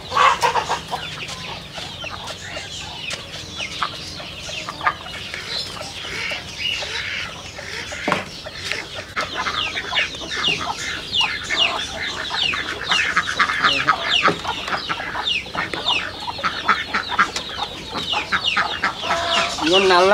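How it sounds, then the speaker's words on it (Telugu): A Kadaknath cross-breed hen clucks close by in a rural yard, repeated throaty clucks building in rhythm and intensity, with some background voices and ambient farm noise. "కోడిని తీసుకొస్తానండి."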